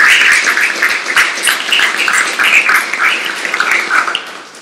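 Audience applause at a gallery finissage afternoon event: dense, sustained clapping from a crowd, loud and close, lasting throughout and tapering slightly at the end.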